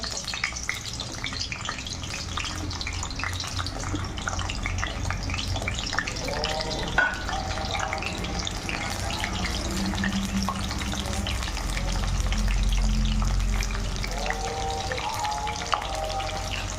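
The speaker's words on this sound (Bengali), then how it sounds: "তারপর পটলগুলো এবার তেলের সঙ্গে ফ্রাই করে নেবো" Pointed gourd pieces frying in refined oil in a wok, heard as a continuous close crackling sizzle with occasional stirring and some faint background clatter and water.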